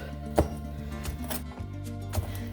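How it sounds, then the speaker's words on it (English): A knife chopping cooked shrimp on a cutting board for an authentic Mexican shrimp cocktail: a few soft, separate thuds spaced across a quiet kitchen. "But the rest, I'm just going to chop"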